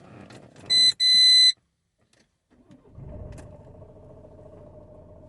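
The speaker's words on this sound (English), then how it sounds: "So we're going to start the van up and see if the voltage changes here." Van engine cranking and catching, preceded by a couple of electronic beeps and brief clicks, then settling into a steady low idle close by.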